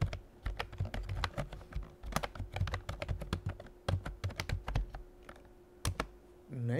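Rapid, irregular keystrokes on a computer keyboard while entering login credentials and a password, close and fairly quiet, clicking steadily for several seconds with brief pauses and no talking.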